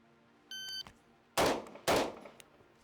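A rifle fires two quick rounds at a target after a shot timer beeps, and the two loud cracks land about half a second apart.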